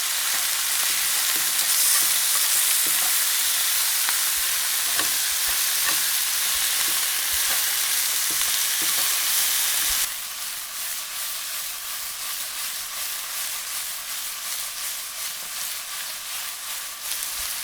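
Oyster mushrooms sizzling and hissing in a hot pan, a bright continuous fry with scraping stirs early on, then settling into a quieter, steady sizzle with soft crackles as they wilt.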